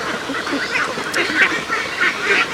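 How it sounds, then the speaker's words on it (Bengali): Ducks feeding on snails, quacking and honking in a steady flurry of overlapping calls, close by and fairly loud, with no talking. "প্রত্যেকটা হাঁসই দেখুন শামুক খাওয়া নিয়ে ব্যস্ত"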